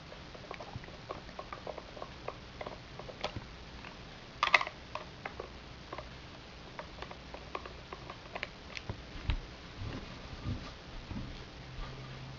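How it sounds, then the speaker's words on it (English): Two small screws being unscrewed from the bottom of a Waterpik WP-360 water flosser, heard as faint, close clicks, ticks and light scraping that come irregularly throughout, with no speech. "I'm going to remove the two screws that are in the bottom here"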